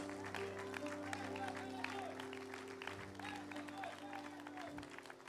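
Church congregation applauding during a Portuguese sermon, a dense steady wash of clapping at moderate level with voices and sustained tones mixed underneath throughout.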